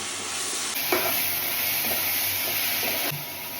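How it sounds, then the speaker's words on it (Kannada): Coriander paste sautéing and being stirred in a hot pan, a steady close sizzle with a few scraping stir strokes throughout. "ಇದು ಹಸಿ ವಾಸನೆ ಹೋಗೋ ತನಕ ಫ್ರೈ ಮಾಡ್ಕೋಬೇಕು ನಾವು."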